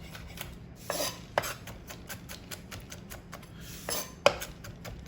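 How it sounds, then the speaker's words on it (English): A knife chopping nuts for pesto on a board, with a handful of sharp, uneven knocks and scrapes spread across a quiet kitchen. "we're gonna chop our nuts"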